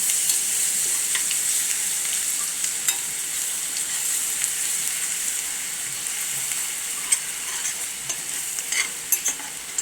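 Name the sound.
frying in oil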